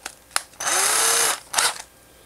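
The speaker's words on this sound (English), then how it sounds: "I'm going to use an 1/8 inch bit," Power drill with a 1/8 inch bit boring into a soft plastic bass worm flange: a brief tap, then a short whining run that sags slightly in pitch, and one more quick burst, close and fairly loud.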